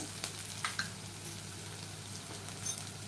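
Chopped onion frying in a pan as it turns light pink, giving a steady, close crackling sizzle with small popping ticks and no talk.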